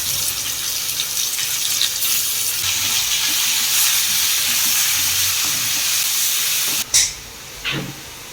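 Meat sizzles as it is sautéed in a pan for a South Indian kari vadai dish, a loud, continuous frying hiss close by, broken near the end by a few sharp scraping stirs, no talk.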